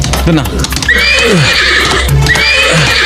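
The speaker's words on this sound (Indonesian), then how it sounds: "Kuda itu liar sekali." A wild horse neighs loudly in an animated cartoon scene, with several sharp whinnies rising and falling over a steady background and a voice briefly speaking.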